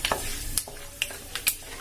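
Mustard and other tempering seeds frying in hot oil for upma, a soft sizzle with brief sharp crackles and pops scattered over two seconds, close and fairly quiet.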